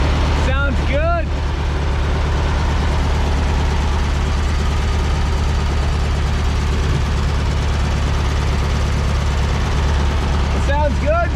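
A cheap used VW Beetle engine idles in a steady, low, even chugging rumble that holds throughout, with brief chirping sounds near the start and end and faint voices in the background.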